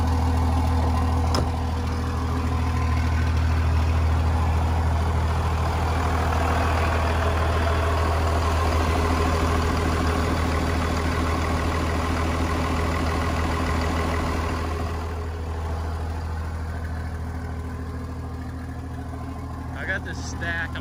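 An old 24-valve Cummins diesel truck idles with open downpipes and no exhaust fitted. It makes a loud, steady, low rumbling drone close by that continues unbroken for about twenty seconds and eases slightly toward the end.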